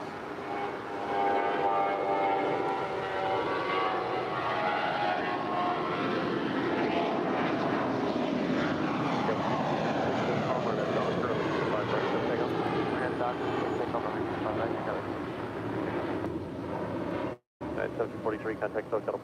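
Steady broad roar of aircraft noise at LAX while a Western Global Airlines Boeing 747-400 is towed, continuous and moderately distant for the whole stretch, with a brief dropout near the end.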